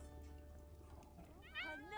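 A cat in The Sims 4 video game lets out a clear, rising meow near the end, loud and close over a quiet background of game ambience and faint low hum.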